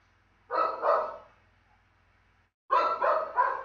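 A video-game dog barks in two bursts, first a pair of sharp barks and then three more after a pause, moderately loud with a faint low hum underneath.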